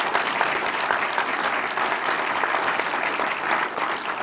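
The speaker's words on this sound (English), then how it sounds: "Give it a round of applause." A startup weekend crowd gives a dense, sustained round of applause after a product pitch, loud and steady throughout with no speech on top.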